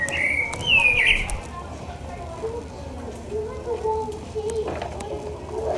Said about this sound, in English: That's just a bird.